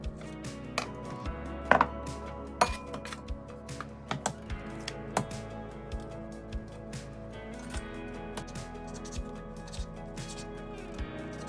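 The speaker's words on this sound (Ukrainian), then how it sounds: "мені треба його дуже міленько нарізати" A knife finely chops chicken fillet rapidly on a cutting board, making sharp, irregular clacks that repeat steadily over a low constant hum, with no talking.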